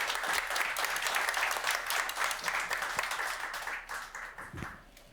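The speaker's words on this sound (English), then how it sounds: "Let's give another round of applause for our panelists." Warm, steady applause from a conference audience for a panel discussion at a Black Hat USA event, dense clapping that holds for several seconds and then thins out near the end.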